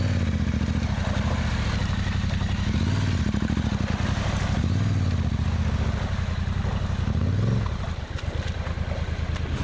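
A motorcycle is ridden hard on a trail in tropical North Australia, its engine droning loud and close with rising and falling revs and a rattling, clattering chassis, easing off near the end.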